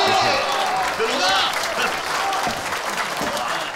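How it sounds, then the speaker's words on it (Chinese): A banquet hall crowd of gang members applauds to welcome a guest, with a burst of dense clapping that tapers slightly while voices rise over it. "掌声欢迎"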